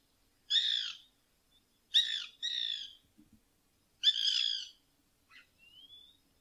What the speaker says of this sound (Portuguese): Pica-pau branco.